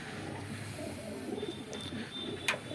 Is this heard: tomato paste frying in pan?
no